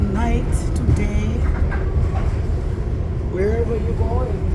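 Steady train noise heard from inside a carriage, a constant low rumble with rattling under a voice that hums or sings faintly through the clip.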